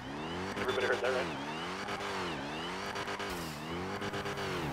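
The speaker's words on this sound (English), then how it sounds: "I just did a 720 drift, my guy." Video game car drifting in GTA 5: an engine revs up and down in repeated sweeping surges, close and loud, with a background voice present at times.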